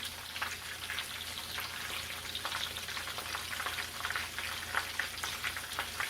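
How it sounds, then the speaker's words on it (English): Chicken strips frying in oil, a steady close crackle and sizzle with dense popping bursts that runs without a break and with no voices. "I'm going to let them finish frying."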